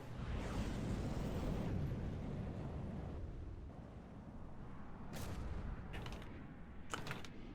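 Missiles slam into the Barracuda ship in From the Depths, giving a long rolling blast and roar that fades, followed by several sharp, sudden impacts near the end.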